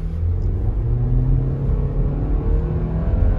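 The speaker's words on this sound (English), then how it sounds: "It struggles a little bit for acceleration, gets a little loud, but you get good speed" A 2022 compact SUV, either a Hyundai Tucson or a Nissan Rogue, accelerating in normal drive mode: a steady, loud engine drone and road rumble heard from inside the cabin, with no one speaking.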